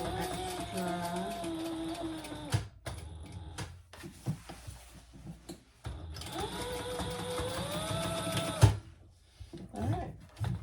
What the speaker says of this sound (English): I am going to back stitch over my D-ring just to give it a little extra